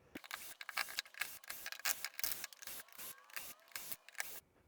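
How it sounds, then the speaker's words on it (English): Body screws are unscrewed from a Stoeger air rifle, a close, quiet run of rhythmic rasping and scraping strokes broken by short pauses. "let's go ahead and get to taking out all of the body screws along this launcher"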